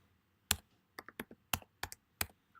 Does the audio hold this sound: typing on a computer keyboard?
yes